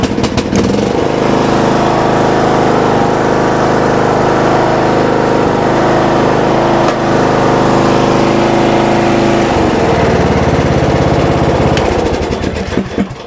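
A riding lawn mower engine cranks, fires and then runs loud and steady at close range, its droning idle holding for several seconds before the pitch shifts near the end.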